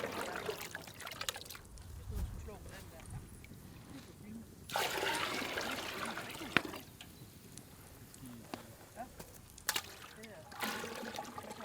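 Water sloshes and pours as wooden buckets move colder and warmer water between plant-dye pots, with bursts of splashing and trickling over quieter stretches and some background voices.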